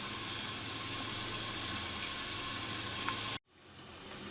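Okra stir-fry sizzles steadily in a covered pan over a medium flame, a continuous soft hiss that cuts off abruptly near the end and then slowly returns.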